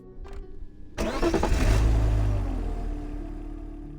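A video game car engine cranks and roars to life, swelling loudly and then settling into a steady low rumble, close and without voices.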